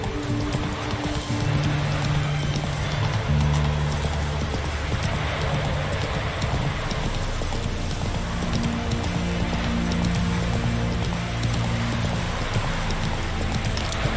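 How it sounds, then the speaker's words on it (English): A horse gallops in The Witcher 3, its hooves beating in a fast, steady clip-clop rhythm on the ground, loud and close throughout with no talk over it. "Whoa there, Roach."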